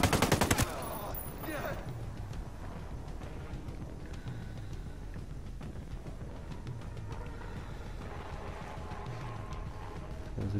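Rapid automatic gunfire from the video game Ghost Recon Breakpoint rattles continuously, with dense bursts layered over one another, loud and steady, after an opening sharp crack.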